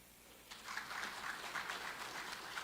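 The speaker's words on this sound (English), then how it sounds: "A round of applause for that." Applause from an audience at a talk about a sea-grape-fringed paradise, steady broadband clapping beginning about half a second in and continuing evenly to the end at moderate, somewhat distant level, with no talk over it.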